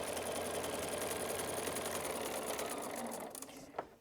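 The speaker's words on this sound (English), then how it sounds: "The machine can sew quite fine 2 or 3 stitches between each piece." A sewing machine stitches quilt block pieces in a rapid continuous mechanical patter, close and fairly quiet, then slows and stops near the end.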